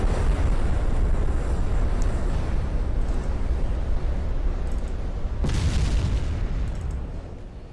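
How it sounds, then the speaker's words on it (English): A warship blows up from a flash fire in the naval game Ultimate Admiral Dreadnoughts, a loud sustained rumbling roar with a fresh blast partway through before it slowly fades. "flash fire has erupted, the turrets are flying everywhere"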